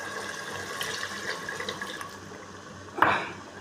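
Water runs in a thin, steady trickle into a pan of cooking fish curry, followed by a brief louder splash near the end, close and moderately quiet.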